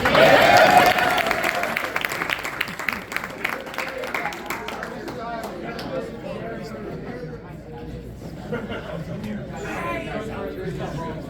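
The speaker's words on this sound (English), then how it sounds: "Give a round of applause for these guys." Audience applause at a high school basketball team's dinner banquet, strongest at the start and gradually thinning into crowd chatter and voices.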